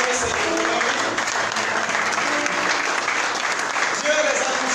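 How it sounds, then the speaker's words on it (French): Sustained applause from a church congregation at a sharing and testimony breakfast gathering, a steady dense clatter of many hands filling the room for several seconds. "Acclamons le Seigneur."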